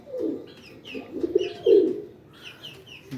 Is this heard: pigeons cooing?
yes